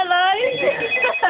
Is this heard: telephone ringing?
yes